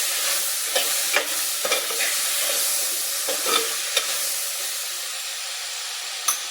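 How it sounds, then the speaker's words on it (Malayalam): Two green chillies frying in hot oil in a pan for a drumstick and tomato curry, a steady sizzle with scattered clicks and scrapes of stirring, close and fairly loud, no voices. "അതിന് മുമ്പായിട്ട് നമുക്ക് 2 പച്ചമുളക് ഇടാം."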